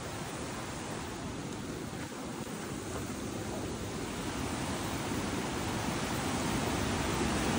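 Broadband rushing water of a river at a waterfall crossing near Ditumabo Mother Falls in San Luis, Aurora, a steady dense roar that swells slightly louder toward the end, with no voices.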